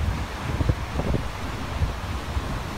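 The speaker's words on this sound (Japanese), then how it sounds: "北風が強く吹いていてとても寒いです。" Strong north wind at a stormy, rough-sea beach on a cold, clear day, roaring steadily into the microphone with gusty buffeting and a constant broadband rush, loud and close with no voices.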